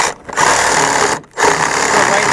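Sawzall reciprocating saw cutting through a wooden deck board, a loud, steady buzzing cut near at hand, broken by two brief pauses.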